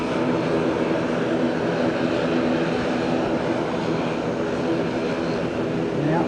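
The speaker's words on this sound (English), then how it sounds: "Here's the short wheelbase model of the" ATR 42 turboprop airliner at Fukuoka Airport, a loud continuous propeller and engine drone with a steady hum, holding level from start to finish.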